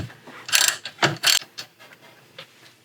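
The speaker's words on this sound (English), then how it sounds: "going to use a 13 mil to get off this bolt and the bolt underneath" A 13 mm ratchet wrench works a bolt loose on the brakes of a BMW F10, giving a few close, quick clicking ratchet strokes that fade into lighter ticks.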